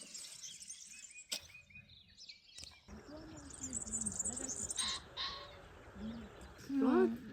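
Birds call across open Tuscan farmland, a few short chirps and harsher caw-like notes scattered through a steady rustling background, with one louder call near the end and people speaking briefly.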